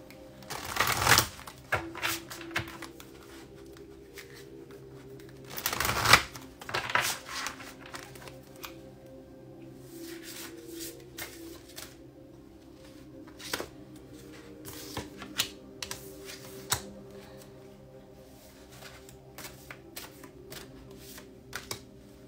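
Animal oracle cards are shuffled and drawn, with a few sharp riffling bursts early on followed by quiet scattered taps and soft handling sounds, close and faint.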